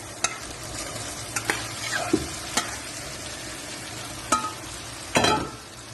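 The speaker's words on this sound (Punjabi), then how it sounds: "ਹੁਣ ਆਪਾਂ ਇਹਦੇ ਵਿੱਚ ਆਲੂ ਗੋਭੀ ਐਡ ਕਰਾਂਗੇ" Potatoes and cauliflower stirred into frying masala for halwai-style aloo gobi, a moderate sizzle punctuated by sharp spatula taps and clanks on the pan, ending in a louder scrape, near and without talking.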